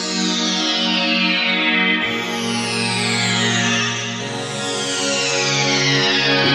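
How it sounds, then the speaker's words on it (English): A resonant filter sweep pad from an Ensoniq VFX-SD synthesizer holds sustained chords, with a bright, whistling resonance gliding downward as the chord changes twice, smooth and loud with no voices. "it sort of sounds like you've got a, you know, a resonant filter sweep pad"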